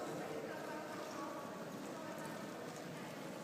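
Hooves of a Shagya horse thud steadily during a riding lesson, a continuous rhythmic clip-clop in a noisy arena while an instructor talks.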